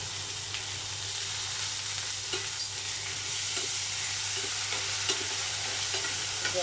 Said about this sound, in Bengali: আমি সুন্দর করে ভেজে দেবো